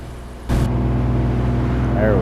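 A truck hauling a trailer drives along a road in the Alaskan Road Truckers game, its engine a steady low drone that thickens and grows louder after a brief burst, continuing without a break.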